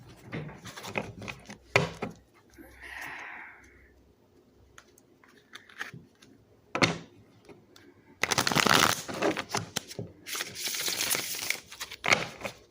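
Tarot cards being shuffled in several bursts, crisp riffling and flapping close by, separated by quiet pauses and a few taps.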